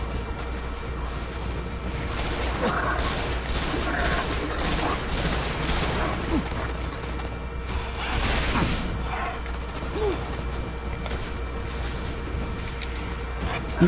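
Shotgun fire and other weapon blasts in Destiny, The Garden's Spire mission, over a continuous drone of game ambience; repeated sharp bangs with a louder cluster of crashes near the middle, fairly close.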